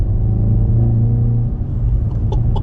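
Hyundai i30N hatchback exhaust in its louder sport mode, a steady deep idle-like rumble with a slight rise in revs near the end, loud and close with no talking.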